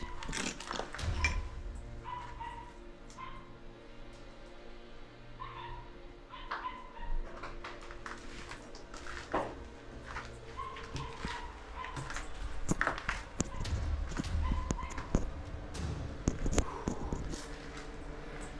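Dogs yap, whimper and bark somewhere around an abandoned building, scattered short calls over a noisy background with clattering knocks, fairly faint and distant.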